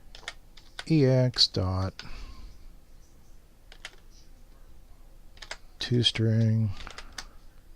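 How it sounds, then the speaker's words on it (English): A computer keyboard is typed on in brief bursts of soft key clicks, close and quiet, between stretches of someone speaking. "I'll just type it."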